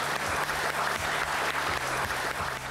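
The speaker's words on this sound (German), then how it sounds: "Großen Applaus" A crowd applauds steadily for a few seconds, with dense, even clapping throughout and no voices.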